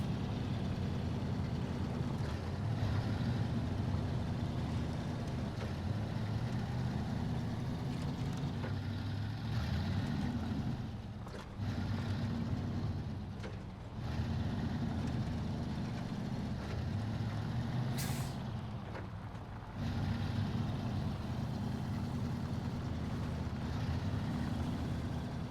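A heavy truck engine droning in the SnowRunner off-road game at the Smithville Dam drilling site, a steady, loud low rumble with slight rises and dips in revs, continuous with no talk.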